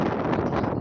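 A strong, cold, below-freezing wind blows in the hills of Anapa, buffeting the microphone in a loud, continuous rumbling roar that lasts under a second.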